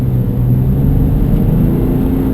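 A BMW X5 E70 with a 231-horsepower 3-litre straight-six engine accelerating on a gritted tarmac main road, producing a steady, loud low engine drone and rumble with no talk.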